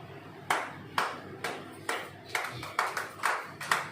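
A church congregation claps in steady rhythm, about nine sharp hand claps evenly spaced at moderate distance, fairly soft over a quiet hall.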